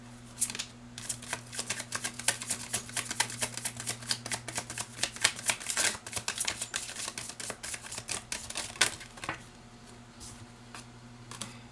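Tarot cards are shuffled up close, a long run of quick, crisp riffling and flicking snaps that thin out toward the end over a steady low hum, with no talking.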